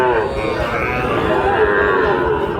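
Cattle at a busy livestock market moo in long, loud, drawn-out calls close by, layered over a dense crowd murmur of the market.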